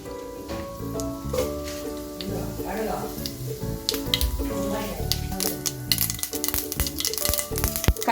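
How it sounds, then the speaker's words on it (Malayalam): Mustard seeds sputter and pop in hot coconut oil in a pan for Kerala banana pachadi, with sharp crackles growing denser toward the end under steady background music. "കടുക് പൊട്ടി വരുന്നുണ്ട്."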